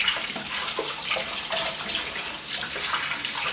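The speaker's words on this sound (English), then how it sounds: "just give them a quick rinse" Tap water runs steadily over organic tomatoes in a kitchen strainer, a continuous close splashing rinse that carries on alone without pause.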